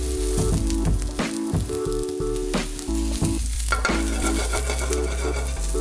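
Mushrooms fry in a hot pan for a salmon and vegetable stew, a loud steady sizzle with stirring and scraping clatter throughout, close and alone without talk.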